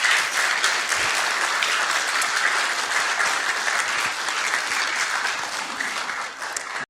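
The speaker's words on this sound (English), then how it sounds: "Give them a round of applause." Steady, dense applause from a church congregation at a baptism on Resurrection Sunday, sustained and fairly loud throughout with no talk over it.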